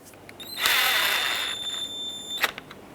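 Power driver briefly whirring as it drives screws into a plastic tailgate handle on a 2011-2018 Ram 2500, a single short close burst followed by a faint click.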